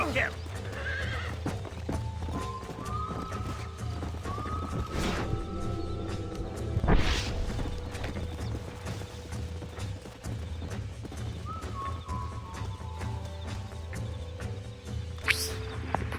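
Horses in the Red Dead Redemption mobile game, played with a mod, whinny loudly and clip-clop along, with a sharp crash-like burst midway, while someone speaks over the game sounds.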